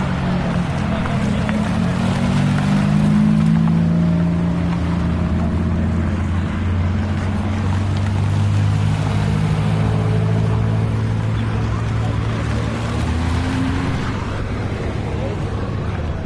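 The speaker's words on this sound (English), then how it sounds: "20-something Ferraris rolling by on the gravel." A long procession of Ferraris rolls past on gravel, engines droning and swelling in overlapping low tones as the cars pass one after another, with tyres crunching under a constant loud mechanical rumble.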